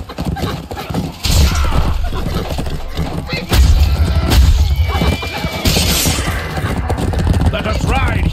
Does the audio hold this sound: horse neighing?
yes